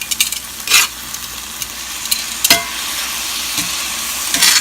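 Pork chops browning in a frying pan, salted, give a steady broadband sizzle with occasional sharper pops and crackles, fairly close and continuous with no voices.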